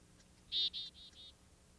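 Baby birds call from inside a backyard nest box, a short run of four thin, high chirps, the first loudest and the rest fading, with quiet background noise around them.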